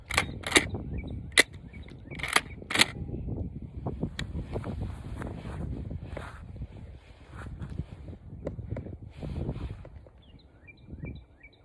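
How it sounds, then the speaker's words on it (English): Shotgun fired at a target 20 yards away outdoors with a regular shell and a Winchester Longbeard XR turkey choke, several sharp loud reports in the first three seconds, then quieter wind and handling noise. "Shooting a regular shell at 20 yards."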